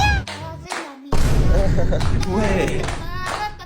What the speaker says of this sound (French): Les copains, les copines, on applaudit pour l'anniversaire de Tess